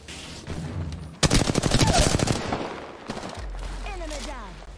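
Rapid automatic gunfire bursts in Apex Legends, a dense close volley of shots followed by a second shorter spray and softer in-game effects.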